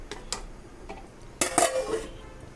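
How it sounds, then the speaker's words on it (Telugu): A spoon clinks and scrapes in a pot as tamarind is stirred into an egg curry made with chana dal, with a cluster of louder metal knocks toward the end as a lid is set on, and no talking. "ఇలా వేసేసుకుని ఒకసారి కలుపుకొని మూత పెట్టేసుకుందాం"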